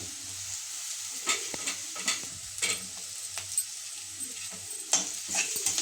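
Carrot frying with a pinch of turmeric in a pan while being stirred, for sabudana khichdi: a continuous hiss of sizzling with irregular scrapes and clinks of the spoon, close and without talk.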